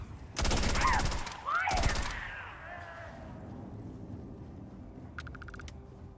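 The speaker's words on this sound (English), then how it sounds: "Oh, they're shooting at me." Enemies fire at the player in the fantasy game Avowed, two loud dense bursts of rapid shots up close, followed by a fading tail and a faint metallic rattle, with a voice heard between.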